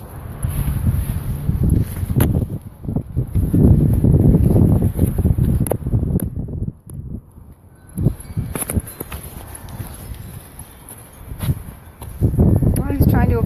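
Gusty wind blows outdoors as light snow falls, rumbling steadily and loudly against the microphone alongside footsteps, with a brief lull midway. A person talks over it.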